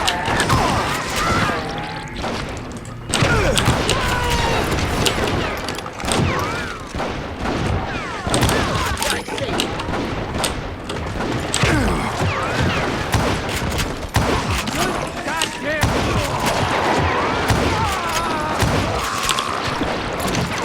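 Heavy gunfire crackles from both sides in a Call of Juarez Gunslinger shootout, loud and nearly continuous for twenty seconds, with rapid overlapping shots and echoing impacts and occasional voices in the mix.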